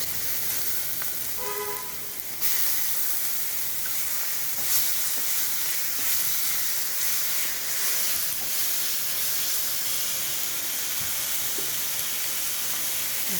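Tomato paste sizzles and fries in a hot pan, a loud steady crackling hiss that jumps up sharply after a brief quieter start and holds close and continuous throughout, with faint clinks of utensils.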